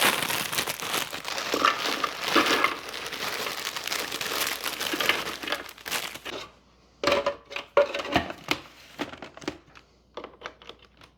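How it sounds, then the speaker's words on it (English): An entire box of ginger snap cookies being crushed: a steady, loud crinkling and crunching for several seconds, then separate sharp crunches with short silent gaps between them. "we are going to crush up an entire box of ginger snap cookies"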